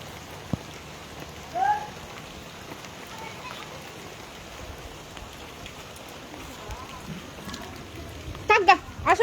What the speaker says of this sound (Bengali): প্রচুর বৃষ্টি হচ্ছে ঢাকাতে